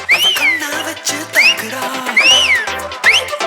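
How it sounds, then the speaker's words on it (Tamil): Shrill rising and falling whistles from an audience at the Pride of Excellence Awards 2025 ceremony, several bursts over loud, thumping stage music with a steady beat. "விசில் சத்தம் பறக்குது எங்க அம்மாக்கு"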